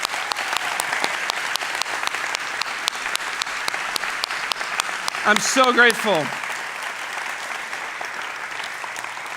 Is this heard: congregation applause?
yes